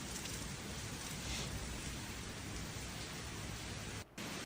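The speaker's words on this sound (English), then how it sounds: "This is like an afternoon thunderstorm," Heavy rain from a thunderstorm during Hurricane Melissa in Jamaica, a dense, steady roar of downpour that holds constant throughout, briefly cutting out near the end.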